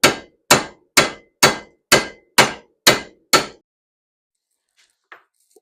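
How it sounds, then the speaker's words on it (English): Eight evenly spaced hammer taps knocking a part into place on a 1937 Chevrolet cab during a chop, each strike sharp and close with a quick decay, then near silence with a faint small clink near the end. "We'll just tap it in."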